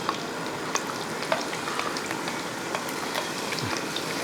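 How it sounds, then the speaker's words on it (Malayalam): Chopped garlic dropped into hot oil for a chicken dish, a steady soft sizzle and crackle with scattered small pops, fairly quiet and close, without talk. "എണ്ണ ചൂടായ ശേഷം ഒരു പത്ത് പതിനഞ്ച് വെളുത്തുള്ളി ചെറുതായിട്ട് അരിഞ്ഞു വെച്ചിരിക്കുന്നത് അതങ്ങോട്ട് ഇട്ട് കൊടുക്കുക"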